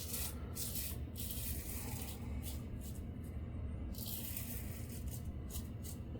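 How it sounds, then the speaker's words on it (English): A Maxwell June twin blade razor scrapes across the grain over lathered skin in a quiet, close-up series of repeated raspy strokes with short pauses between them. "All right, cross the grain. Man, it's just gliding."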